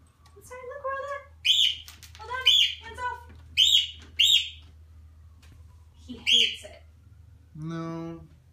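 Birds chirping and tweeting in an aviary, bright repeated calls in short bursts over a steady low hum, fairly close, with a voice briefly audible near the end.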